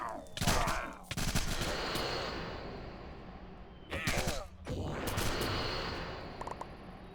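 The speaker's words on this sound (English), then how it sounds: "That's just the weapon toss. It bounces and stuns." Minecraft Craft To Exile 2 weapon toss attack bouncing off and stunning mobs, loud dense bursts of rapid impact and crackling combat noise in two long stretches broken by short gaps.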